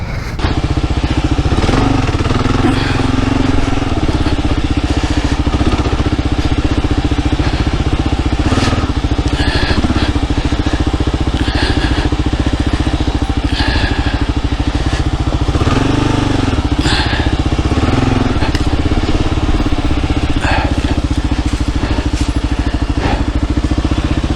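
A dirt motorcycle engine runs loud and close throughout while being ridden through sand, a continuous rough drone with revving surges and rattling clatter.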